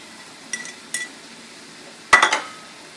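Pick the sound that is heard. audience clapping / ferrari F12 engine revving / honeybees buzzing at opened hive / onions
onions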